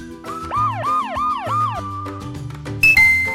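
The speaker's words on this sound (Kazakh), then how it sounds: "Жедел жәрдем" An ambulance siren wails in a quick rising-falling pattern about four times, loud and close, then gives way to a few shorter electronic tones.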